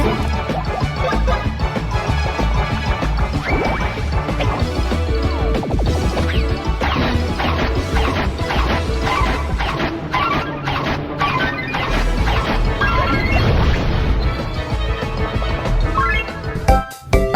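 Bomb Derby attack in the game Mario & Luigi: Paper Jam, with dense crashes and thwacking impacts over upbeat game music that plays continuously.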